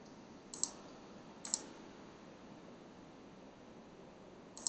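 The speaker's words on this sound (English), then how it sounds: "So I'm going to hit Control C on the keyboard" Control C pressed on a computer keyboard while working in Windows Terminal: three sharp, quiet key clicks spaced irregularly over a steady low hiss, with no voices.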